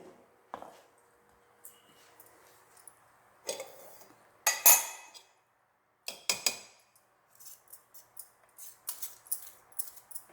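A ghee-greased knife cutting coconut burfee into diamond-shaped pieces, giving a series of soft, fairly close clinks and scrapes against the tray, irregular and intermittent, with quiet pauses between cuts and no talking.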